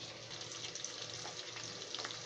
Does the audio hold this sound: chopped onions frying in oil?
yes